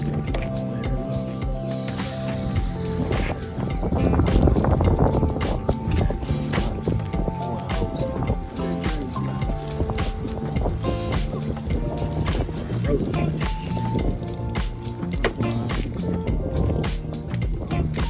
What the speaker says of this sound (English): Next, we're gonna wet this thing down, baby.